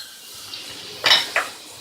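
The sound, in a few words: garlic added to hot olive oil in a pan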